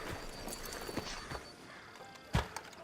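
Horse hooves in the Red Dead Redemption 2 video game clip-clop steadily at a walking pace over a noisy outdoor game ambience, with one heavier thud near the end.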